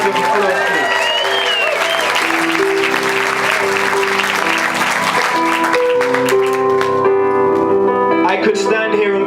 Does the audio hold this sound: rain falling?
no